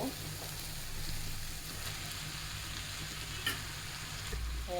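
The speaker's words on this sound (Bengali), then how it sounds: "এখন আমি ভালো করে নেড়ে চেড়ে নিব" Potato with fenugreek greens fries in a pan with a continuous hiss and faint stirring scrapes, and a brief knock near the end.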